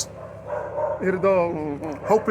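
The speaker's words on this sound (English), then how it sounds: "also the dogs are barking and stuff" Dogs barking and yipping close by in a few sharp, pitched bursts with some whimpering, rising over a low steady hum.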